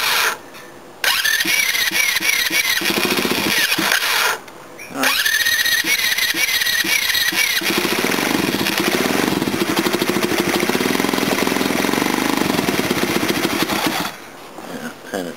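A mini bike engine cold starting, catching twice with brief silent gaps between, then running in a steady loud buzzing idle before cutting off near the end.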